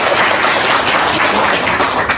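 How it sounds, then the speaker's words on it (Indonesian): Students applaud together in a classroom, a short dense burst of close, loud clapping that runs steadily for a couple of seconds with no talking. "Tepuk tangan dulu dong"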